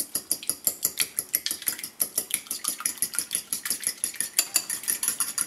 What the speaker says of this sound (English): Just give it a good whip until it's all good and mixed.